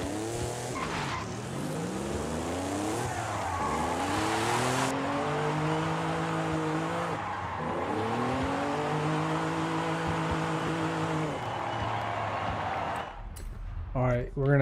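A 2005 Honda NSX in Forza Horizon 5 revs and shifts through gears on a highway run, its engine note rising and falling in steady sweeps with tyre noise, ending in a brief burst of clatter.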